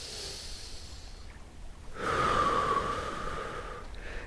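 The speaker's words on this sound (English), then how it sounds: "You breathe in, you breathe out" Slow, deep breathing during a qigong exercise: a soft drawn-in breath, then a longer, louder airy exhale with a rushing, nasal quality, close and alone without talk.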